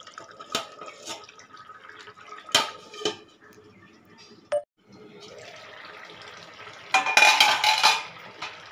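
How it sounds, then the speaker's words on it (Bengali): A lid going onto a cooking pan of rui fish curry with vegetables: a few distinct metallic clanks and knocks over a quiet kitchen background, followed by a louder, busier burst of clatter near the end. "ফের দিয়ে দিতে হবে একটা ঢাকা।"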